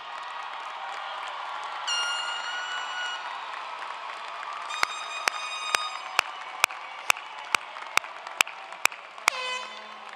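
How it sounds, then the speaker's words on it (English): Graduates at a 2023 university undergraduate commencement applaud their family and friends, a broad steady wash of crowd clapping with cheers, later joined by sharp repeated tonal beeps or horn-like blasts in a regular rhythm. "give them a round of applause"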